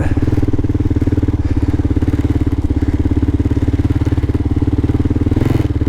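A Kawasaki KLR650 motorcycle riding through sandy desert gives a loud, close, steady single-cylinder engine thump, with a rapid even pulse and no talk over it.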